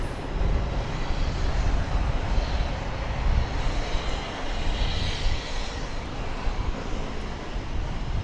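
Jet airliner on its takeoff roll from runway 18 Left at DFW Airport, heard at a distance as a loud, steady, broadband engine roar that holds level throughout with a breathy rushing edge, no voices over it.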